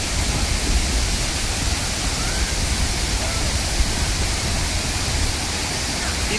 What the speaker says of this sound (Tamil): திரிப்பரப்பு வாட்டர் ஃபால்ஸ்.